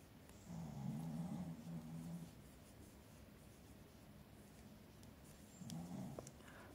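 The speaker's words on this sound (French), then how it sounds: "je ne sais pas si on entend ronfler, il y a mon chien qui dort." A sleeping dog snores indoors: two slow, low, breathy rumbles several seconds apart, faint against a quiet room hiss, with no one talking.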